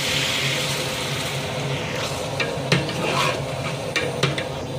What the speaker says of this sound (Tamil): கருவேப்பிலையும் அந்த எண்ணெயில் கொஞ்சம் வதங்குற மாதிரி நம்ம போட்டுடலாம்